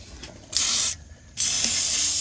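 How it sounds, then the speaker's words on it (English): An aerosol can of penetrating spray fires two bursts onto transmission and exhaust bolts under a GMC Sierra pickup, each a sharp, loud hiss, the second longer than the first, with a short quiet pause between. "We're gonna spray all up in there."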